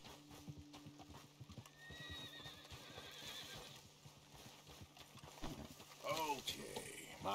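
A horse in the video game Red Dead Redemption 2 clops along with steady hoofbeats, then gives a loud whinny near the end, while a player talks over the game sound.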